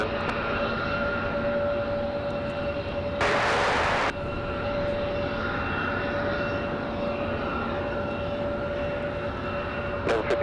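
An airliner, a Southwest flight from LaGuardia, approaches runway 23 left at Raleigh Durham airport at night with a steady engine drone and whine, joined by a brief burst of hissing static.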